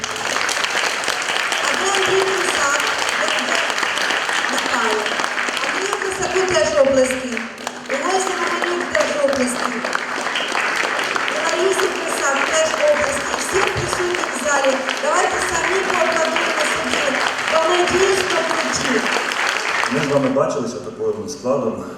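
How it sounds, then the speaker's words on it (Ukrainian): An audience applauds at a tech volunteers' day event, steady clapping running under and between a speaker's voice for most of the stretch before thinning out near the end. "оплески."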